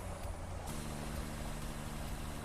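A truck drives in the factory-building video game Satisfactory, its engine a steady, even drone with a constant tonal hum running underneath.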